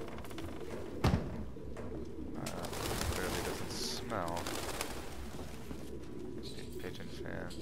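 Pigeons coo in the video game Detroit: Become Human: soft burbling coos and wing flutters sit among a dense ambient game soundscape with occasional sharp hits, while someone talks over them.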